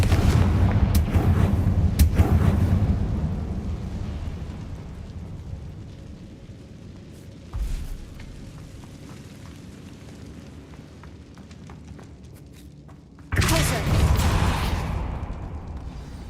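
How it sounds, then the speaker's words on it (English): Confringo blasts in Hogwarts Legacy land as heavy booms. A rumbling burst opens the clip, a brief thud comes near the middle, and a second strong explosion follows near the end, with quieter crackling debris in between. "Confringo!"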